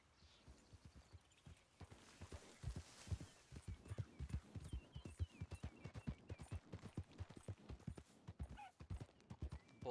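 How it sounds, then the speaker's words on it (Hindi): A horse gallops fast in the video game Red Dead Redemption 2, its hooves drumming a rapid, steady clip-clop rhythm close by for the whole stretch, with a faint whinny and no talk. "बहुत ही सही तेज दौड़ता है घोड़ा यार"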